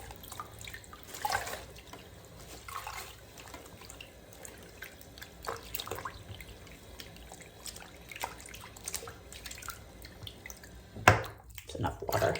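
A beaded fabric wrap is gently squished by hand in water, giving soft intermittent wet squelches and drips spread over several seconds, with a sharper splashing burst near the end.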